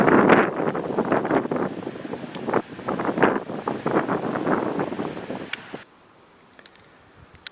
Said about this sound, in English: The wind feels so good.